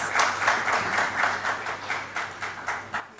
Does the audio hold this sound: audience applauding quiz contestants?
yes